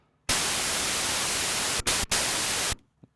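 White noise from the noise source of a Korg MS-20 Mini synthesizer, a loud, bright, steady hiss that starts suddenly, cuts out twice in quick blips, then stops near the end.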